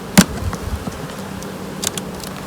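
Honeybees hum low and steady around an opened hive during a spring inspection, with a few sharp close knocks and rustles standing out over the buzz.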